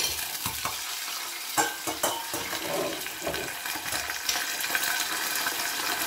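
Tomato sauce hitting hot oil as a tempering for Turkish lentil soup, a crackling sizzle with sharp spatters and scraping bursts that rise and fall unevenly.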